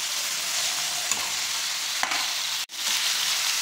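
Ivy gourds fry in a pan with a steady close sizzle, broken by a few sharp scrapes and taps of stirring and a brief dip in the noise near the end.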